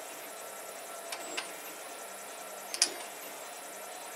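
A 3D printer moving in a quiet room as it feeds filament and then retracts it, giving faint mechanical whirs and a couple of brief clicks against a low steady hiss.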